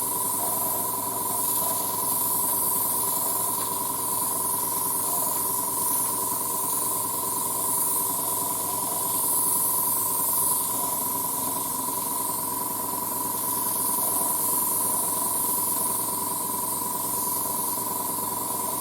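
Airbrush spraying a first, very transparent paint coat on a 1:35 Trumpeter E-50 Standardpanzer model tank, a continuous even hiss lasting the whole stretch with a faint steady hum beneath, no talking.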